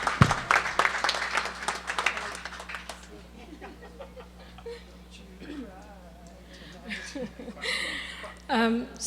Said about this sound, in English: So, big round of applause for Deidre.